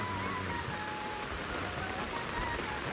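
Steady monsoon rain falls in a village, a constant even hiss of drops with no breaks, fairly soft and continuous.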